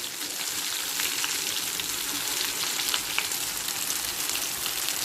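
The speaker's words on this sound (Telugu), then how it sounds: "ఇట్లా రెండు వైపులు బాగా చక్కగా ఎర్రగా ఎగిపోయినాయి వంకాయలు" Whole brinjals fry in hot oil, browning on both sides, giving a steady close sizzle and crackle that holds evenly throughout with no voices.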